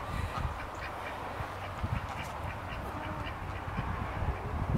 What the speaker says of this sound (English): The ducks are now in the old chicken house for now.